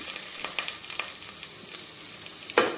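Ginger garlic paste sizzling in a hot pan while being stirred, bright crackling spatters with quick repeated scraping strokes and a sharper clank at the end, close and fairly loud.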